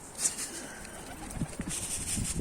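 Pigeons cooing outdoors while flying overhead, with soft repeated coos and faint chirps over a breezy background.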